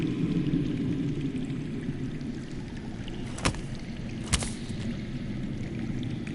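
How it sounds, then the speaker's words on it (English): Steady low rushing of underground flowing water in a Game of Thrones video game, a continuous murmur with two brief sharp clicks partway through. "That's water. I hear water. From underground."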